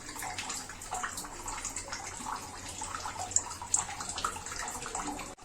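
Cooking oil pours into a heated pan while making vegetable dal sambar, a soft, steady, watery trickle and hiss that continues for several seconds, with a couple of small clinks partway through.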